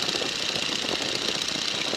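Steady broadband engine roar of a Boeing N2S-3 Stearman biplane climbing at 1,800 RPM and 75 mph, loud and continuous from close by, with no talk over it.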